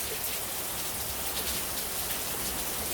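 Heavy rain pours steadily outdoors while a brake pad is changed on a Lectric XP e-bike, a dense, even hiss of drops hitting surfaces with no break and no voices.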